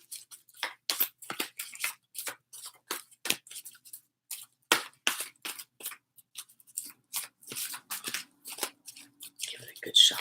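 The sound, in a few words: shuffling angel oracle cards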